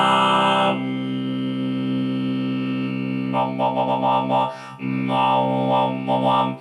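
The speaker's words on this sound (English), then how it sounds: "That sounds a bit like a didgeridoo" A voice run through a distortion and chorus effects unit drones buzzily like a didgeridoo. It holds steady and is loud, then breaks into a few warbling, pulsing bursts before the drone returns.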